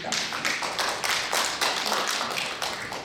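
Applause from a seated audience at a policy forum after a presenter finishes, a moderate patter of clapping hands at mid distance, steady for a few seconds with no talk.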